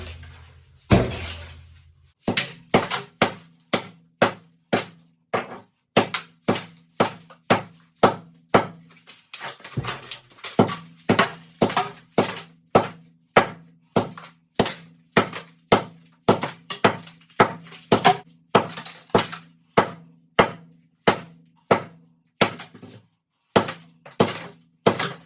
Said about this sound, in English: you want to hit it just like you would if you're doing a chisel or a demo hammer closer to the end